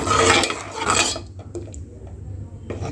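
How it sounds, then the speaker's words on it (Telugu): A spoon stirs ragi flour into a boiling pot, scraping and clinking against the metal sides in close, steady strokes for about a second, then softer scrapes and a few light taps. "రాగి పిండిని గడ్డలు లేకుండా స్పూన్తో కలుపుతూ ఉడికించాలి"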